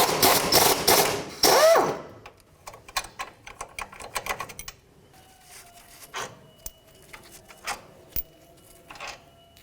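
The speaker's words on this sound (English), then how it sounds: "I have a 16mm socket and wrench, and I'm going to take off the bolts holding the lower ball joint" A 16mm socket and wrench work the lower ball joint bolts on a 1997-2004 Dodge Dakota, first a burst of rapid metallic ratcheting clicks, then sparse scattered taps and clanks of tools against steel.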